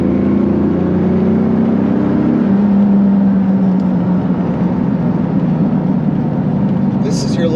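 A 1998 Lamborghini Diablo SV engine drones loud and continuous on a mountain road, holding a deep throaty tone that shifts pitch partway through, with muffled talk mixed in.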